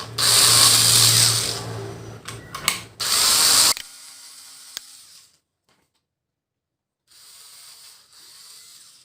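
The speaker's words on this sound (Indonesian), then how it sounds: "kita lubangi lagi dengan bor di keempat kaki-kakinya" An electric drill bores holes into the legs of a plastic fruit basket, with two loud whining bursts broken by short ratcheting grinds, then a pause and a fainter spin near the end.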